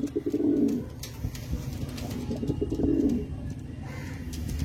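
Lalshira and Kalshira pigeons, old-line birds, give two deep rolling coos close by, with quieter murmuring between them and no talk.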